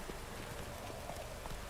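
Horse hooves clip-clopping at a steady walking pace in a video game, a continuous run of soft, regular hoofbeats over a constant background bed, with no talking.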